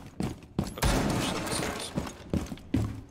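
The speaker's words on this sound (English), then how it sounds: "Shotgun the hatch." A shotgun in Rainbow Six Siege blasts a hatch: a heavy boom followed by crackling debris and several sharp thuds and shots, loud and close, with no talking.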